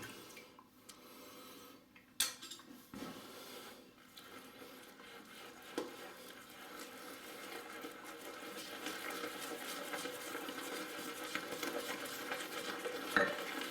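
A shaving brush whips Signature Soaps Britania lather in a bowl, a wet, swishing churn that builds steadily louder over several seconds, with a few sharp clicks against the bowl and no talking.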